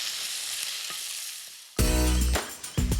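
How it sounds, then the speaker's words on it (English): Garlic and onions hit a hot pan and burst into loud, close sizzling after a quiet background hiss, with a brief utensil clatter as the frying continues. "Ooh, sizzle. You can smell the garlic and the onions"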